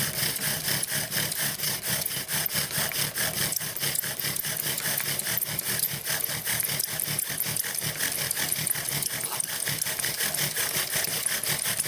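A wooden bow drill spins hard against a wooden base, a loud, close, continuous rasping grind with a quick back-and-forth rhythm running steadily throughout.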